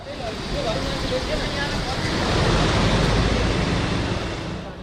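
Monsoon floodwater waves surge in Bihar with a broad, roaring wash that swells and recedes, loud and continuous, mixed with windy rumble.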